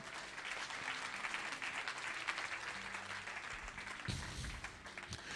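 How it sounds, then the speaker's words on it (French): A church congregation claps steadily in a sustained, dense burst of applause that fills the room at an even level throughout. "Applaudissez un peu le Seigneur Jésus."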